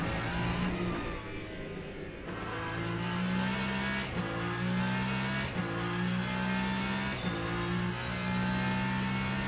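A V10 race car engine in the Le Mans Ultimate racing game at Imola, a steady high-pitched engine drone that rises and falls through gear changes with occasional shifts, heard loud and continuous with no voices.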